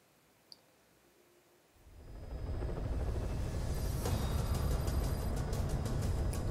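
A helicopter in the Metal Gear Solid V video game spins up after a quiet moment with a faint click, its steady rotor and turbine roar then filling the scene loudly with no talk.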